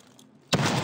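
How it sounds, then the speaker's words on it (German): A flashbang grenade going off in the shooter game Call of Duty Advanced Warfare: after a quiet half second, a sudden loud burst hits and holds as a bright, sustained wash of noise. "Blendgranate!"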